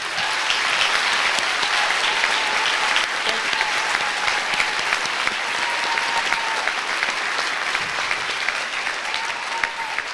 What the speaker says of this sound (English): please help me in giving our professors, staff, and faculty members a round of applause